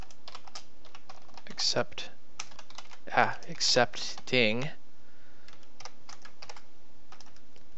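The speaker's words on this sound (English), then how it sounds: "And you can see it, my typing." Fast, light tapping on a computer keyboard while C++ Qt code is entered, the clicks running as a soft, steady patter under a man's intermittent speech.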